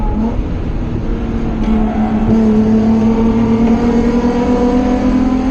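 Race car engine on a track, held at a steady drone with a rising tone as the throttle is squeezed on harder out of a corner exit toward full throttle, loud and continuous.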